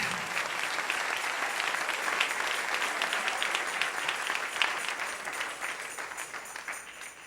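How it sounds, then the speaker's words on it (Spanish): A church congregation applauds steadily at a morning service, dense clapping from many hands sustained evenly throughout without a break. "Dale un aplauso al Rey."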